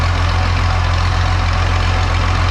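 An 1850 tractor engine with no muffler idles steadily, a loud, unbroken low rumble with a regular beat that holds level for the whole stretch.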